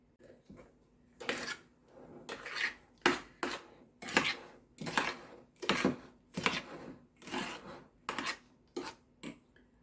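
Sour cream and sugar being stirred in a bowl, a spoon scraping and clinking in rapid repeated strokes, close and fairly loud, with no talking.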